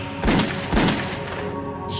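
Two sharp gunshot-like bangs ring out about half a second apart inside the cabin of a Pacific Southwest Airlines aircraft in a dramatized reconstruction, over a steady engine hum with no talk.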